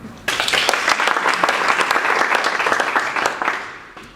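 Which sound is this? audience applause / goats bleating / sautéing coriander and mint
audience applause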